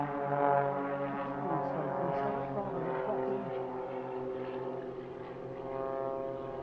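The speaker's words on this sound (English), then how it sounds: "And all 4 aircraft now pull up for the final manoeuvre." Four propeller aircraft of the Global Stars civilian aerobatic team pull up together at an airshow, their engines snarling in rich, shifting harmonic tones that rise and waver under a steady drone.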